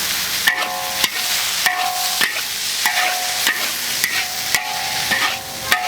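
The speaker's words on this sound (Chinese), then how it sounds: "给它炒香就可以了。" Filling seasoned with soy sauce, cooking wine, salt and sugar is stir-fried in a hot wok. A spatula scrapes and clanks against the pan in a regular rhythm, about once a second, over a continuous loud sizzle.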